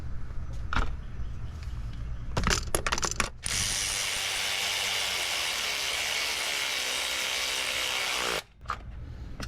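Ratchet lightly snugging timing cover bolts on a 2012 Mercedes C250 during timing chain work: scattered close clicks, then a sustained rasping buzz lasting several seconds before stopping abruptly, followed by a few more clicks.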